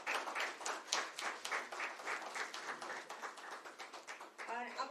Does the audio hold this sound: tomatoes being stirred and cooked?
no